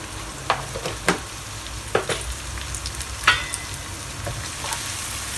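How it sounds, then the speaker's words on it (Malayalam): A handful of curry leaves frying in hot oil for Chettinad chicken, a steady close sizzle with scattered crackles and pops, no talk. "ഇതിലേക്ക് ഇനി ഒരു പിടി കറിവേപ്പില."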